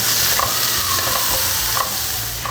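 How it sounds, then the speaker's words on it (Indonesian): Onions and shallots sautéing in oil in a pan for a chicken tikka masala curry, giving a steady, close sizzle and frying crackle with a few light stirring clinks throughout. "kita akan tumis dulu. Yang pertama bawang bombay sama bawang merahnya ya"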